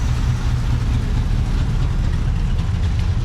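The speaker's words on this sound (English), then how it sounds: "But sitting here idling." A rough, steady engine idle from a 1966 Pontiac Grand Prix rumbles close by, deep and continuous with a slightly uneven, lumpy throb, no voices over it.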